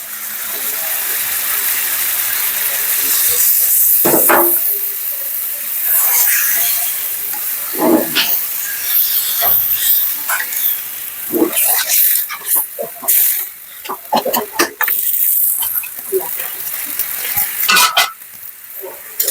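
Fish fries in a pan with a loud, close, hissing sizzle. Sharp bursts of spattering and scraping break through as the pieces are moved about.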